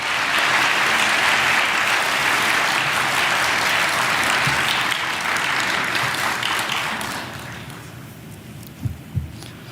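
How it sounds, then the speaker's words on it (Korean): A church congregation at an early-morning prayer service in Los Angeles gives a pastor a big welcoming round of applause. Loud, dense clapping holds for about seven seconds, then fades out, leaving a couple of soft thumps. "큰 박수로 우리 목사님 환영하겠습니다."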